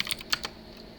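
Quick keystrokes on a computer keyboard as a command is entered, a short burst of four or five crisp clicks heard close and alone.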